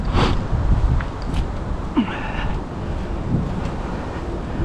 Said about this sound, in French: Donc il y a un petit vent pas chaud.